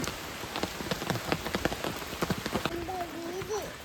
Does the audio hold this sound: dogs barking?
no